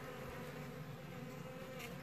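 Dense, steady buzzing of many honeybees close by in an open hive, a continuous humming drone with no voices.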